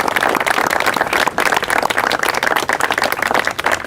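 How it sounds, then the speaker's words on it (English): An audience claps together for law enforcement officers, a dense, continuous wash of applause that stays loud and steady throughout with no voices above it. "Let's give them a round of applause real quick."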